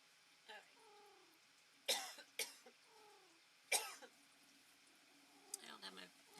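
A person coughs several times in sharp, close bursts, with quiet pauses and softer throat sounds between them, indoors near a computer.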